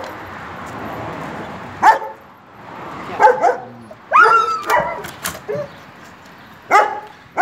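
A young German Shepherd puppy gives a handful of short, high yips and barks in separate bursts, fairly close, with quiet background noise between them.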